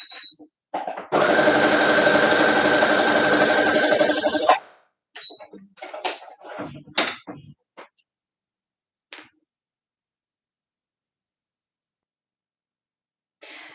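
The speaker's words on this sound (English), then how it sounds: "I'm going to do a little bit looser of a stitch." A sewing machine stitches stretchy fabric in a continuous whirring burst of about three and a half seconds, close up, followed by scattered short clicks and handling sounds and then quiet.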